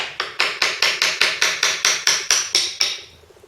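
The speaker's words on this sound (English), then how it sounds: "There is a piece here to tap with a hammer if you need to." A hammer taps a metal swing axle gearbox cap about a dozen times in a steady, quick rhythm, each strike ringing sharply, then the sound stops.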